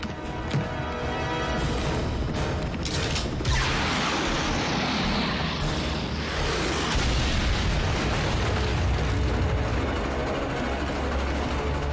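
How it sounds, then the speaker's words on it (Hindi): Train tracks blown apart in an animated show, a loud sustained explosion roar with crashing debris and rumbling that fills the whole stretch, dense and continuous. "मैक ने ट्रेन ट्रैक्स उड़ा दिए"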